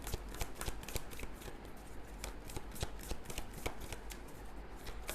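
Tarot cards are shuffled during a reading, a steady run of soft, riffling card flicks and slaps. It is close but quiet and goes on continuously, with no speech.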